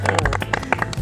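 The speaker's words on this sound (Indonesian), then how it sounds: "Tepuk tangan semuanya" A small group claps briefly during an interview with a short-film production team, quick irregular hand claps overlapping with voices for about a second.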